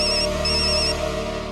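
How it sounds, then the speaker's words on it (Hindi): A phone ringtone plays continuously, a repeating electronic melody with steady tonal notes, loud and close, with no voices over it. "जब तक आप फोन नहीं उठाएंगे वो फोन करता रहेगा।"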